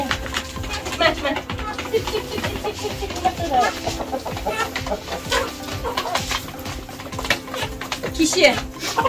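Hens in a coop cluck and murmur in irregular bursts close by, with other bird calls mixed in and a person talking over them.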